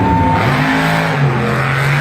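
A monster truck at a Monster Jam arena show in Santa Clara revs its engine hard. A loud, close, sustained roar shifts pitch as the throttle climbs, continuous for two seconds with no talk.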